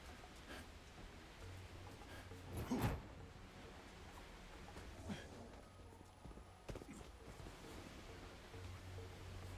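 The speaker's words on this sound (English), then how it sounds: "Oh, it's a secret waterfall base." A waterfall at a secret base in Marvel's Avengers rushes steadily as a soft, broad, continuous wash of water noise, faint and distant, with a few brief bumps and scrapes on top.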